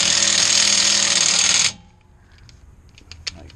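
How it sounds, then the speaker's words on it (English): A ratchet breaks loose a 17 mm brake line nut on a car strut, with a loud, harsh mechanical rattle held for over a second before it stops abruptly, followed by faint clicks and handling noises. "I break that loose with a ratchet"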